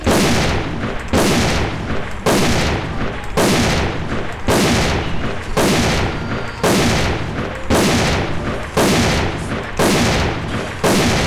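An SV98 bolt-action sniper rifle fired in the AVA shooter game: about ten loud, booming single shots at a steady pace of roughly one per second, each with a short ringing decay and nothing else heard.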